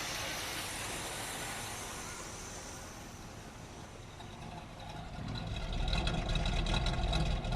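An Oldsmobile 403 V8 in a classic G-body car runs continuously with a coarse, rumbling, uneven tone, running rough, growing louder and deeper toward the end, heard up close.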